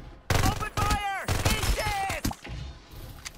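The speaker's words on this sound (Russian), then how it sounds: "Кто по пацанам стреляет?" Bursts of gunfire in the battle-royale shooter Farlight 84 crackle in rapid volleys over about three seconds, loud and close, with a voice talking over the shots.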